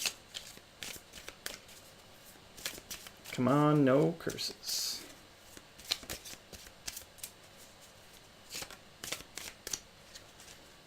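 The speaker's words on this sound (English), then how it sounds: "So shuffling this." A deck of playing cards from the 7th Continent board game is shuffled in one quick riffle-like burst at close range, surrounded by light tapping and handling noises, with a voice speaking briefly.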